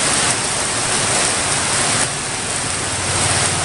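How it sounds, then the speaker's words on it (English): Heavy tropical storm rain in Ormoc City pours down as a dense, unbroken hiss with no wind, loud and constant for the whole stretch. "heavy rains here in Ormoc City"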